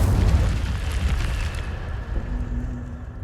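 Incendio fire spell cast in Hogwarts Legacy, a loud whooshing burst of flame with a rumbling low body that tails off into a fading hum, no voice over it.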